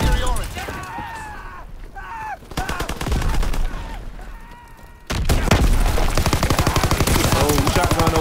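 Rapid automatic gunfire from a waffle gun in a video game, crackling in dense bursts that intensify into sustained firing, with someone talking over it and game music underneath.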